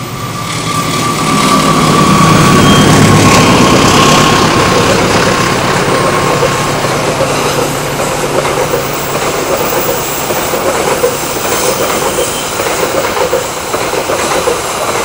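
Argo Dwi Pangga passenger train KA 10 speeding through a curve at Kalimenur, Kulon Progo, a loud sustained roar of wheels and rail noise with clickety-clack and a faint squeal, steady throughout.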